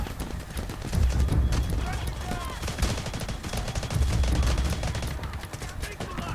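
Gunfire in the video game Delta Force: bursts of shots crack through a busy, loud mix of game action, with repeated sharp reports and heavier clusters of fire at intervals.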